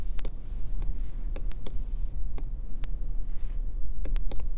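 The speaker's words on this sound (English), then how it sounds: "I'm typing out my entire equation" Scattered clicks of typing on a computer keyboard while entering a math equation, irregular taps with brief pauses over a low steady background hum, no talk.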